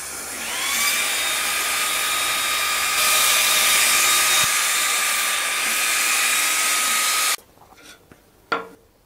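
An xTool D1 40W diode laser cutting through a roughly 14.6 mm pallet wood board at 2000 mm/min in repeated passes gives a loud, steady whirring hiss with a thin high whine for about seven seconds, then cuts out to a few faint clicks.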